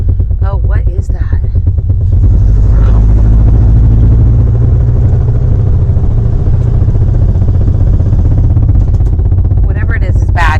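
A 1950 Cadillac engine running with a bad noise coming from underneath the car, a loud, constant low rumble with clattering overtones, close by, and a voice briefly heard over it.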